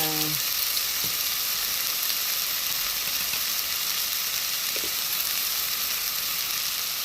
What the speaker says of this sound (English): And the garlic cooks very fast as well. So while this is getting sauteed